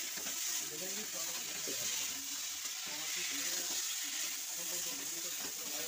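Tilapia fish curry spices frying and being stirred in a pan, a dense, steady hiss and crackle of sizzling oil with soft scraping and stirring beneath it throughout.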